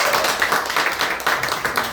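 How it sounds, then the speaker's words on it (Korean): An audience claps together to welcome a newly opened branch at a gathering, a dense, even patter of many hands that continues steadily throughout, with no talking over it. "한번 박수 한번 우리 환영할까요?"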